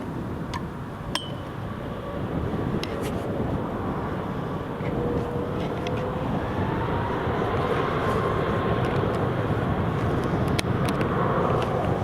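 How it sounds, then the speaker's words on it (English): A business jet on approach to land at Newcastle International Airport gives a steady, broad rumbling roar that holds at a constant level throughout, with faint clinks nearby and no talking. "BizJet's just about to turn final."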